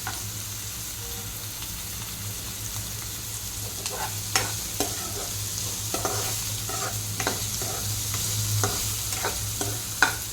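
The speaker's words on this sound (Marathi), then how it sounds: "मस्त आपण ह्याला हलवून घेऊया मस्त लाल होऊन द्या" Paneer bhurji masala sizzles steadily in a pan while a spoon stirs and scrapes through it, giving a continuous frying hiss broken by sharp, irregular scraping clicks close by.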